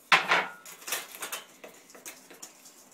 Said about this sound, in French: Avoir battu vos blancs d'œufs avec le sucre et le sucre vanillé, ajoutez la farine. Mélangez